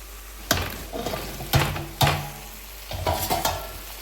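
Raw banana pieces dropped into a pan of fried onions and green chillies, with several sharp metallic clanks and scrapes of a spoon over a low, steady sizzle, close by.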